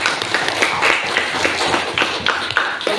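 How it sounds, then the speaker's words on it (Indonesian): Classroom audience at a teaching performance exam at UIN Imam Bonjol clapping for a student teacher, a close, lively patter of hands in a fairly even rhythm. "marilah kita apresiasi dengan tepukan bersama-sama"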